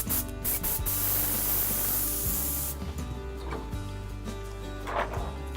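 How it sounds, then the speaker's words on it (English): Paint from a small cup is sprayed through an airbrush over a frisket mask, a close steady hiss lasting nearly three seconds before cutting off, followed by faint rubbing noises. "We have the paint inside this little cup here, and we start spraying."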